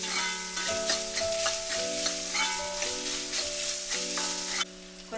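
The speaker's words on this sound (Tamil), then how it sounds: "நல்லா போட்டு வதங்கணும் எண்ணெயிலேயே" Crushed green peppercorns sauté in hot oil for a vegetarian green pepper gravy, sizzling steadily and loudly throughout while a melodic music track plays over the frying.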